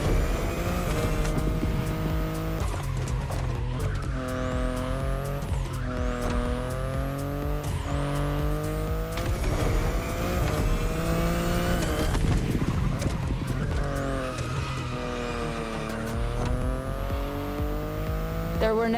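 BMW i8 hybrid sports car in The Crew Motorfest, its engine revving up and down through repeated gear shifts, with tire squeal and skidding, loud and close throughout.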